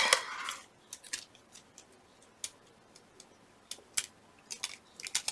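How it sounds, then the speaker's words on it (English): A small, cute pair of brass scissors snips paper in short, crisp clicks, scattered irregularly, some single and some in quick pairs, close and quiet against a still room. "I have a little pair of brass scissors that are very cute"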